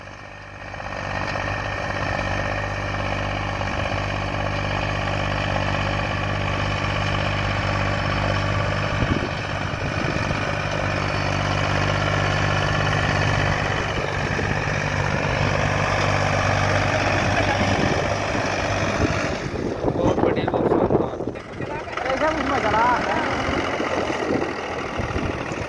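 A Mahindra 265 tractor engine straining under full load while pulling a plough in a field; a loud, steady, droning rumble runs throughout with a brief shift and some rattling toward the end.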